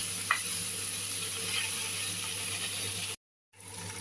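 Fried chicken wings sizzle steadily in a pan with browned onion and garlic while being stirred, a loud continuous hiss with occasional scraping, cut off by a brief silence near the end before resuming.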